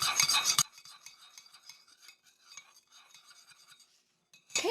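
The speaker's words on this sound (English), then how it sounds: "And we want to stir that in well." Vanilla being stirred into sweetener and butter for keto chocolate chip cookies, with soft, faint scraping and clinking of a utensil in a bowl for a few seconds, preceded and followed by brief louder noise.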